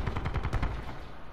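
Rapid automatic gunfire in the shooter game Black Ops 4, a quick burst of about eight close, punchy shots in steady rhythm that trail off into a low rumble.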